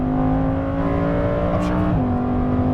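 A Lamborghini Huracan Performante on a racetrack at full throttle, its engine note loud and steady, climbing and then dropping as it shifts up a gear, with a spoken voice just audible beneath.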